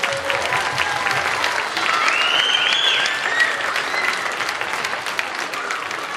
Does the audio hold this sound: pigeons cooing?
no